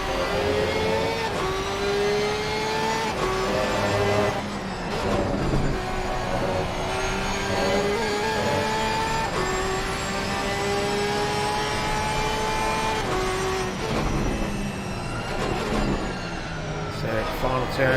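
A Porsche race car engine in a PC racing game revs steadily at high pitch, with gear-linked pitch sweeps and shifts, loud and close throughout while a commentator talks over it.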